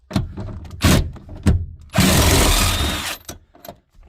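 A power tool spins out seat screws in a 2020 Ford Kuga, with short close bursts of whirring followed by one longer sustained run of about a second, amid clunks and handling noises.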